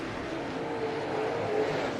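Dirt late model race cars on the clay oval at Swainsboro Raceway roar steadily in a dense, continuous engine drone, the pack sounding moderately distant with a slight swell near the end.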